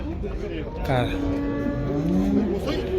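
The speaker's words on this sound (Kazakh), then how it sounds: "Қарқынды жатыр мал базар." Cattle moo loudly and close at a busy livestock bazaar in Kyzylorda, one long drawn-out call rising over crowd murmur and background noise.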